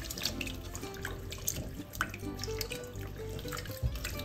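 Food, rinsed after boiling for Ilocano papaitan, is washed under a running tap at a sink: steady splashing water with drips, sloshes and a few light clunks, close and moderately loud.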